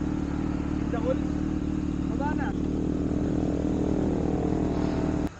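A Kawasaki ZX6R with a full exhaust runs steadily at a loud, close idle, with a couple of faint voices over the engine before it cuts off at the end.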